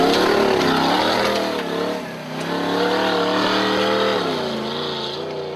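A Toyota Land Cruiser 4x4 truck at a 2013 ARB winch truck challenge drives through a water crossing, its engine droning loudly and revving up and down with a dip midway, steady and close throughout.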